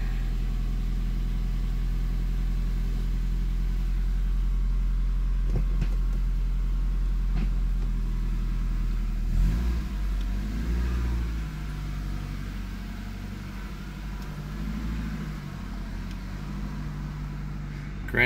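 A 1988 Toyota Celica engine idles steadily after a cold start on a mild day, a low constant hum with a few faint clicks and a slight shift in tone partway through.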